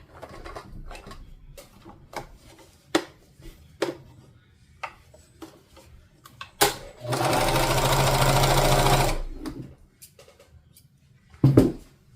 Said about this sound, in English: we've got a good stitch on the serger